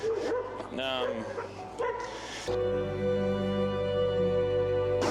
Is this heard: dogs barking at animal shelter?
yes